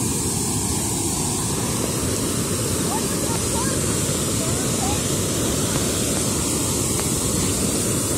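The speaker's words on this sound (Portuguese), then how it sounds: "o barulho aqui da água é bem forte" Roaring water from the Cachoeira da Fumaça waterfall on an ecological trail in Cascata, Rio de Janeiro, a dense, steady broadband rush that fills the whole stretch loudly and close, with no letup.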